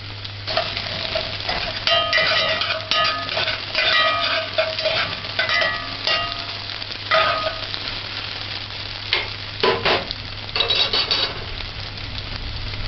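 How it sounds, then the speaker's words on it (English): Garlic frying in a pan hisses with a steady sizzle, broken by scraping stirs and occasional metallic clinks of a utensil against the pan. No one talks over it. "After 1 minute and a half, add the garlic."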